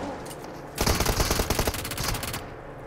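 A rapid automatic weapon fires a loud, close, sustained burst of tightly spaced shots in the battle royale video game BGMI, starting abruptly after a quiet lead-in and stopping just as suddenly.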